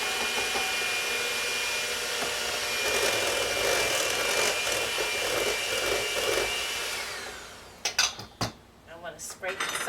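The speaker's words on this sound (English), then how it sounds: "I prefer to do the first stages of it with a mixer" An electric hand mixer whirs steadily through Polish potato bread dough for several seconds, then cuts off, followed by bowl clatter and scraping up close.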